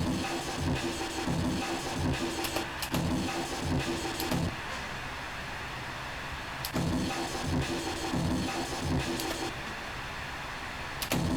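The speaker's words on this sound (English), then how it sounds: "And now let's add some reverb." A chopped tech step drum break in Reaper, with a distorted layer and added reverb, pounds on loudly and continuously, its hits smeared into a wash of noisy echo with brief dips between repeating phrases.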